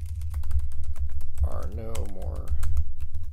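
Rapid clicking keystrokes on a computer keyboard while writing LaTeX in NeoVim, close and crisp in an irregular rhythm, continuing under a man's speech.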